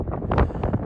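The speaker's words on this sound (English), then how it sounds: "Look at this bloody wind though." Strong gusty wind buffets the microphone at a wild camping spot near Pillar summit at 2750 ft beside a tent, a loud continuous rush with surging gusts and no speech.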